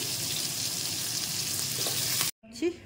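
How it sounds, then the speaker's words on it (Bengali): Pumpkin and potato pieces fry together in hot oil tempered with whole spices, giving a loud, steady, close sizzle for over two seconds before an abrupt cut to a brief, quieter stir-like rustle. "ফোড়নটা হয়ে গেছে, আমি এবার কুমড়ো আর আলু একসাথেই দিয়ে দিচ্ছি"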